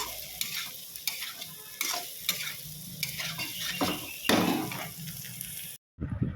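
Poppy seeds frying in a pan with a spatula stirring, irregular scraping strokes over a soft sizzle, close and fairly loud, ending in a sudden brief silence.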